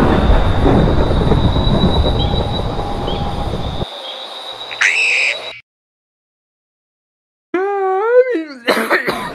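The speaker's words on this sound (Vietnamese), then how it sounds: "Mới ngủ dài mà ho sặc sụa sặc sụa vậy" Violent coughing erupts in a Minecraft-style scene amid a loud roaring rumble with screeching, followed by abrupt silence, then a rising whiny tonal sound and more harsh noise at the end.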